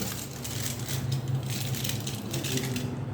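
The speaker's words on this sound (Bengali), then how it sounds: "এরকম একটা ফয়েল পেপার দিয়ে ঢেকে দিতে হবে" Foil paper crinkles and crushes as it is wrapped over small tea cups for homemade ice cream, a close, continuous dry rustling and crackling without pause.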